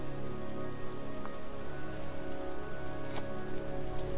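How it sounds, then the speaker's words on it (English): Steady rain falls outdoors in the Heavy Rain video game, a dense, even hiss with a low hum beneath and a couple of faint, brief ticks. "It's cold. It's raining."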